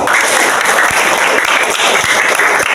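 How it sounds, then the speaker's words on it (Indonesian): Schoolchildren at an elementary school literacy event clap together in a dense, steady burst of applause that fills the room, loud and continuous with no talk over it. "Beri tepuk tangan untuk Ridwan."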